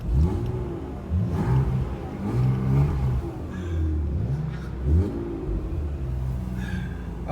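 A BMW E36 320i engine revs in repeated rising and falling sweeps, a mid-pitched rumble heard from nearby with no voices.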